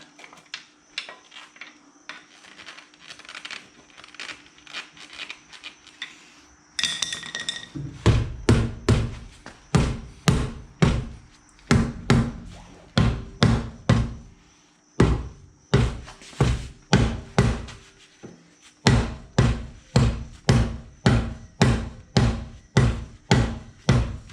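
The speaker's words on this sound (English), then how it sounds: "just trying to hit the hammer on the tire" Repeated sharp metallic hammer blows on the tire of a raised BMW, struck in quick steady bursts with short pauses, loud and close.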